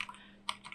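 A few quick keystrokes on a computer keyboard while typing a URL, soft close clicks over a faint hum, very brief.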